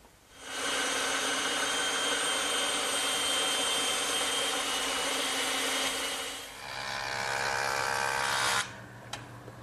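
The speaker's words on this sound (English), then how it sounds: "and I'll cut them over on the bandsaw." A bandsaw cuts tapered cleats from straight wooden stock, whining steadily and loudly for about eight seconds before the blade leaves the wood and the motor winds down.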